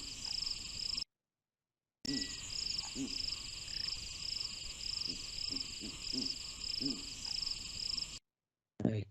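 Frogs call faintly from a distance in a series of low, pulsed croaks over a constant high insect-like drone, with brief gaps of silence between stretches.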